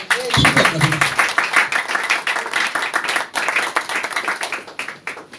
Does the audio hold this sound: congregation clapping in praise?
yes